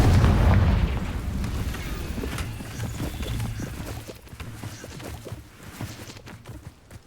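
A Confringo spell blast in the game Hogwarts Legacy opens with a loud, booming explosion that fades into a long, rumbling, crackling tail with scattered smaller thuds.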